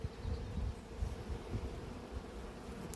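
Honey bees buzzing around an open colony at an apiary, a faint, continuous low hum with small fluttering pulses, close but quiet and with no talk.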